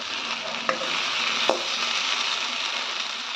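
Sliced okra and onions fry in a pan as a steady, close sizzle, broken by a couple of sharp clicks from stirring.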